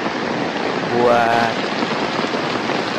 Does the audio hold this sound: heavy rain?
yes